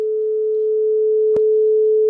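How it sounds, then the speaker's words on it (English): A pure sine wave test tone passed through a single op-amp clipping circuit holds one steady, loud pitch, broken by a brief click partway through. "that's the original sine wave"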